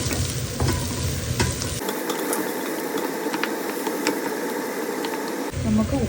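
Potatoes frying in a pan are stirred for a potato fry, steady sizzle with scraping spoon strokes close up, a louder low rumble at the start and end.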